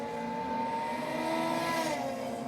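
A drag race car at a V8 versus rotary night launches off the line from the two-step, a loud, sustained engine roar with a slight swell toward the end.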